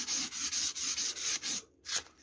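A kukri machete's recurved blade is sharpened with sandpaper wrapped around a round object, making repeated rasping rubs in a steady back-and-forth rhythm, close and fairly loud, pausing briefly near the end before one more stroke.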